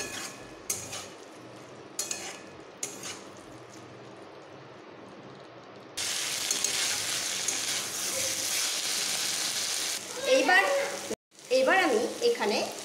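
Grated garlic and spices frying in a pan for a small river fish dish, a faint sizzle that swells louder midway, with clinks of a spatula and pan near the end.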